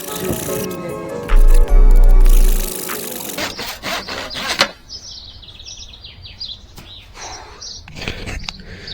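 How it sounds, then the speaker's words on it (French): A hand saw cuts through wood while building a fingerboard spot, giving rough rasping strokes early on, followed by scraping and rubbing, with outdoor birdsong and a brief voice. "En plus la scie elle coupe archi mal."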